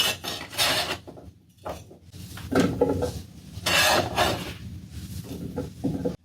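Knife chopping potatoes on a cutting board, several close rasping cuts in bursts at an uneven pace, with no talking.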